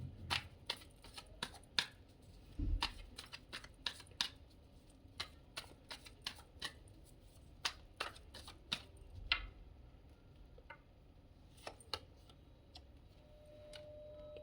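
Tarot cards being shuffled and drawn, a quiet series of sharp snapping clicks and flicks in irregular bursts, close and crisp against a near-silent room, with no talking.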